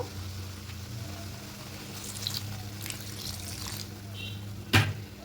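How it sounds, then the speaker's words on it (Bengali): Water is poured into a cooking pan with potatoes and greens, heard as a few short splashing pours over a low kitchen hum, ending in a sharp clack. "মিষ্টিতে জল দিয়ে জলটা অ্যাড করব আর একটু জল দেব"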